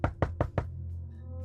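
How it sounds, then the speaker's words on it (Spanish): Four firm knocks land on the door of a humble house at an even pace, loud and close. A low steady hum carries on after the knocking stops. "a la puerta de su humilde domicilio, de pronto escuchó que tocaron en ella."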